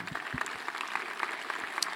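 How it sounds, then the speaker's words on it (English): Audience applause for the sponsors at the BSidesSF 2019 security conference opening, a moderate, steady wash of clapping from a crowd, fairly distant, with no clear talk over it. "let's give a round of applause to all of our sponsors"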